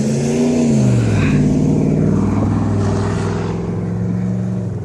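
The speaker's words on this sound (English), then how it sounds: "Out here doing donuts and stuff. Trying to swerve in the snow." A car engine revs and swerves while doing donuts in deep snow during a blizzard, loud and close, with rising and falling engine tones that ease off slightly toward the end.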